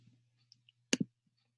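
A single mouse click on a tick mark in the AWS API Gateway console, a crisp near double tick standing alone against near silence with a couple of faint softer ticks around it.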